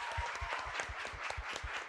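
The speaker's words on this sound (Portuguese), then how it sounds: "Queria pedir uma salva de palmas para ela e para todo esse trabalho" Audience applause during a panel session on creativity and innovation, a steady run of clapping from a crowd heard throughout the short stretch at moderate loudness.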